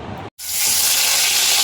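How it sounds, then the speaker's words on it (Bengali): Catla fish pieces frying in hot oil at home, a loud sustained hiss and sizzle that bursts in after a brief silence and holds steady and close. "মা এখানে মাছ ভাজতে বসিয়ে দিয়েছে"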